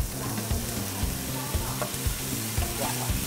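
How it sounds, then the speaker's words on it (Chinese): Potato cakes sizzle and fry in a hot pan over a wood fire, a steady close crackle with bursts of spattering throughout and no talk. "洋芋粑粑下锅了"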